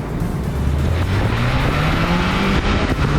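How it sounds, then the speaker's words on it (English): A 2021 MINI Cooper S with its turbocharged engine in sport mode gives a loud, steady drone as the revs climb gradually under load, with road and tire roar around it and no talking. "I keep coming back to that glorious sound from the turbocharged Tyke under the hood."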